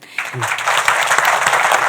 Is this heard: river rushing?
no